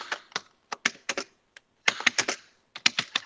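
Computer keyboard keys clicking while code is typed, in short irregular bursts of quick taps with brief pauses between, close and clear with no talking.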